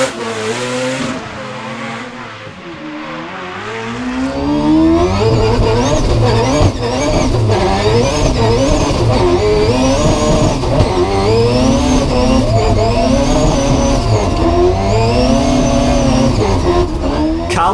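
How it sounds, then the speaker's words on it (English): A methanol-fueled four-rotor Lexus GS 300 drift car sweeps through a corner at Pukekohe with a loud, sustained, high-revving rotary wail and shifting pitch, plus tire squeal, continuous and close. "Thompson's insane methanol-fueled 4-rotor Lexus GS 300 hitting the Pukekohe sweeper"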